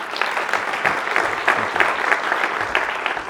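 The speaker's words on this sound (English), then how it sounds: "Can I give him one last round of applause?" An audience at a leadership forum gives a steady round of applause, dense clapping from many hands that holds at an even level throughout, with no talking.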